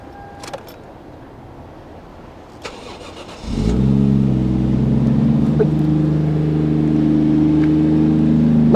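Toyota Chaser JZX100 Tourer V with a stock five-speed manual, its straight-six cranking briefly, catching and settling into a loud steady idle after a few faint clicks and clunks, close up with no talk.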